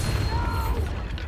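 A Bombarda spell explosion in Hogwarts Legacy, a short booming burst in game audio with a dense low rumble that holds steady for over a second.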